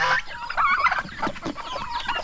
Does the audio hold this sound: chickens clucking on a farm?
yes